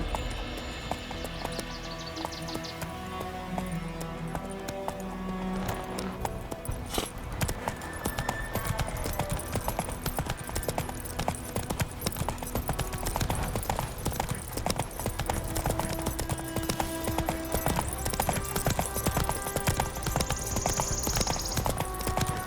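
The horse Roach gallops in The Witcher 3, a fast, steady clip-clop of hooves that runs continuously and loud, with a game music bed and ambience underneath.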